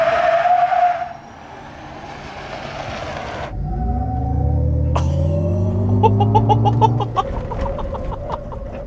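A GMC Hummer EV electric truck launches hard in Watts to Freedom mode, tires squealing and a rising electric whine building over several seconds, followed by chirping tire noise, fairly loud with no talk.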